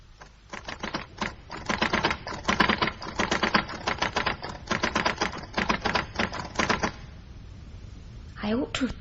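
A typewriter clatters in fast bursts of rapid keystrokes, close and loud, with short pauses between runs, then falls quiet as a voice begins speaking near the end.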